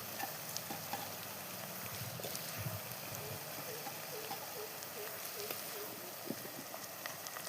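Country eggs and dried prawns frying with softened onions in a pan during village cooking, a faint steady sizzle with occasional stirring scrapes.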